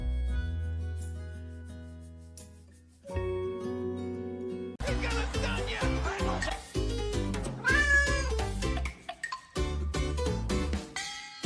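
A cat meows repeatedly over music, its drawn-out cries rising and falling near the middle and end, fairly close and clear.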